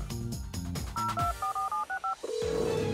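Telephone dialing tones as a cartoon sound effect in a SpongeBob show: a quick run of beeping keypad tones in a steady rhythm, preceded by a musical sting and followed by a sustained ringing tone, loud and alone.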